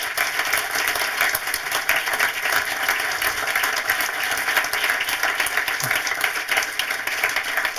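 An audience at a film discussion event gives warm, sustained applause for the film team, a dense even wash of clapping that holds without a break and with no one speaking.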